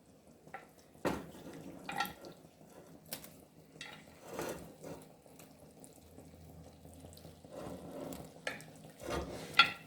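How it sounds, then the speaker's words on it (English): Deboned mutton pieces tipped into a pot of creamy curry goat sauce, giving scattered wet plops, soft stirring and light sizzling with a brief low bubbling stretch, close and fairly quiet, with no talking. "We're just adding it to the pot now."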